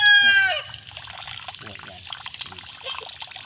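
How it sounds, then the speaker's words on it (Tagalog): Water is poured into a dig site, a soft, close trickle and splash that continues after a brief tonal sound at the start, with faint background noise. "pakilagay ng tubig"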